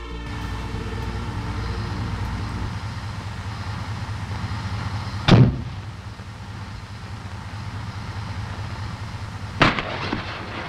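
M551 Sheridan launchers fire a salvo outdoors, two sharp loud blasts several seconds apart over a steady low engine rumble and wind.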